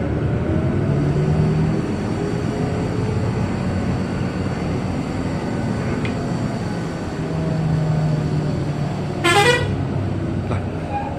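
A Transjakarta bus's telolet horn sounds briefly as a short rising melodic toot near the end, over the loud steady rumble of the bus engine and road noise inside a Jakarta city bus.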